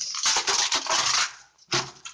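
Broken glass crunches and grinds underfoot inside the damp dungeons of Kłodzko Fortress, a dense close-up burst of gritty scraping that stops briefly and then returns with one shorter crunch.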